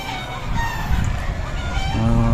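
Roosters and gamefowl crowing and clucking in a yard, several birds calling over one another at close to middle distance, loud and continuous.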